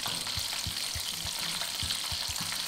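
Prawn paste chicken wings deep-frying in hot oil, a dense continuous bubbling sizzle heard up close, with soft rhythmic knocks from stirring underneath and no voices.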